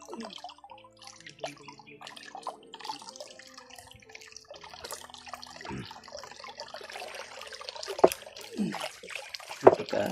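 Water trickles and drips from a pipe in an outdoor spot, a light, uneven splashing with occasional sharper drops, fairly close and soft.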